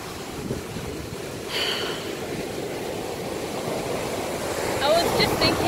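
Surf washing onto Stockton Beach, a steady broad roar of breaking waves with some wind buffeting, continuous and fairly close, with faint brighter splashes near the end.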